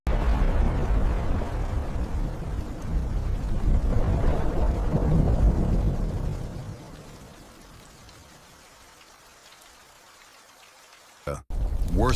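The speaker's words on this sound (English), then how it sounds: "Violent storms sweep across Pangaea." A violent thunderstorm rolls with heavy rain and deep rumbling thunder, loud for the first six seconds, then fading to a low hush before a brief sharp burst near the end.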